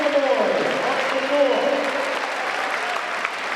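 Crowd at the Drake Relays pole vault competition held at Jordan Creek applauds steadily after a vaulter clears her height, a dense wash of clapping with voices mixed in throughout.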